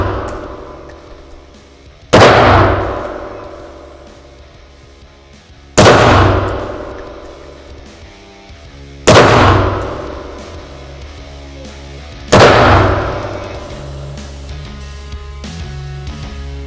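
Four loud, widely spaced shots from a KMR 7.62 sniper rifle striking steel targets, each a sharp crack with a ringing metallic clang that decays slowly over several seconds, with no talk.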